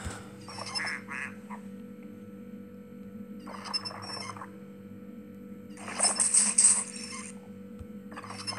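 Cartoon duck quacks from the Where's My Water? 2 puzzle game, several short bursts spaced a few seconds apart over a constant low electronic hum, without any voices.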